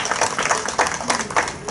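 Loud, dense clapping from an audience at a gathering about the Ravidas temple, rapid overlapping applause sustained for a couple of seconds with surging bursts.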